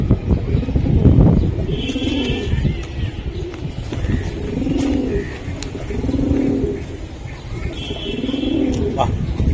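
Pakistani Teddy and high-flying Giribaj pigeons coo in repeated rolling phrases, about four bouts at a steady pace, close by, with some background murmur and faint chatter beneath.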